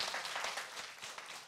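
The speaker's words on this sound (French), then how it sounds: "Applaudissez-vous très, très, très fort." Children clap in a quiet, brief round of applause, a soft and steady patter without any voices.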